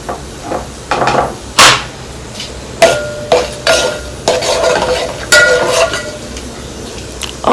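Chana dal, cumin, mustard seeds and a dry red chilli dropped into hot oil, with loud bursts of crackling and spattering, several sharp pops and clatter from the pan, close by and without speech.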